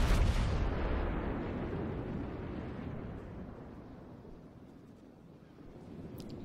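A battleship's main guns fire in the World of Warships game while playing a Montana: one heavy, booming salvo hits at the start, then a long rumbling roar slowly fades away with no talk over it.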